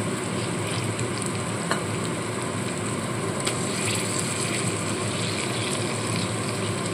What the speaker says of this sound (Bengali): এবার কেটে রাখা টমেটোগুলো এর মধ্যে দিয়ে দিচ্ছি